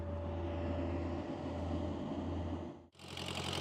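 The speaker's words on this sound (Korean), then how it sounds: "프로펠러 소리와 함께 시누크 헬기가 등장하고" A military Chinook helicopter's rotors thunder over the ice-choked Namhan River during a winter river-crossing drill, a loud continuous low throbbing drone that cuts off abruptly near the end before another steady noise follows, with no talking.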